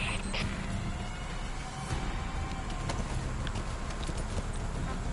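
D-Horse trots with steady clip-clop hoofbeats across ground in Metal Gear Solid 5, a continuous rhythmic game soundscape with no voices.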